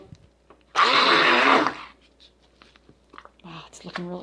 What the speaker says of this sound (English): So I'm going to add a little bit of olive oil to the mixture and continue stick blending just to get it a little bit smoother for us.